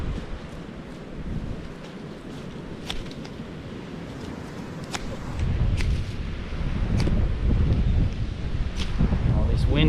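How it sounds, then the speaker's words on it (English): Strong wind buffets a microphone on a remote volcanic island in the Great Barrier Reef, a continuous low roaring rumble that grows louder in the second half, with a voice talking over it. "this wind is just killing it"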